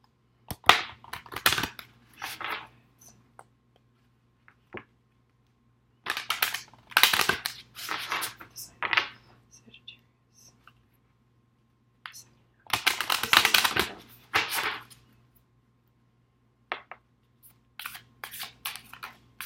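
Romance Angel oracle cards shuffled in bursts of crisp riffling and slapping, each flurry lasting a second or two and separated by silent pauses, close and fairly loud.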